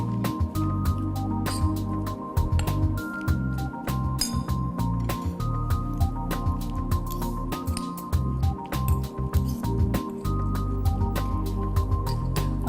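Shredded boiled chicken coleslaw is tossed and mixed with pepper powder and salt, giving a steady run of wet, sticky squishes and clicks close up, with no talk.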